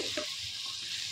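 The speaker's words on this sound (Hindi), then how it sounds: "थोड़ा सा चला लेते हैं" Cut potatoes stirred in a hot pan, a steady close sizzle of frying with a few soft scraping stirs over it.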